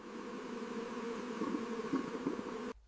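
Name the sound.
bee swarm buzzing around hive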